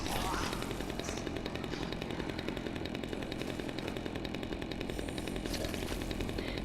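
A chainsaw revs in the video game Dead Rising 2, giving a continuous harsh, rattling buzz that runs loud and unbroken throughout with faint chatter beneath.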